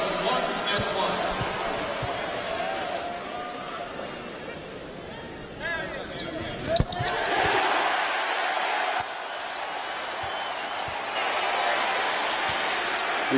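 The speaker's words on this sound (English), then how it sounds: "The applause for Brooks Doyle." A college basketball crowd at Tulane vs Georgia Tech claps after a free throw. The applause is a moderate, distant wash that swells in the second half, with a brief sharp thump midway.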